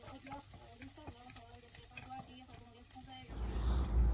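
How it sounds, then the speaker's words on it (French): Ginger and garlic stir-frying in a pan for Chinese soybean paste noodles: a steady close sizzle with a rhythmic scrape of a stirring utensil, then a louder, fuller frying hiss near the end. "On va sauter le gingembre et l'ail pour avoir l'odeur du saveur"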